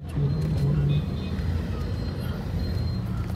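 Road traffic at a congested Surat circle: a steady low rumble of idling and creeping vehicles, loud and continuous with some faint higher engine whine, and no voices on top.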